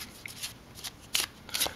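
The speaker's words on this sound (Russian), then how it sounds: "Я их тасую" A deck of playing cards riffled and shuffled by hand during a card trick, several short papery bursts of flicking cards at close range, with no talking.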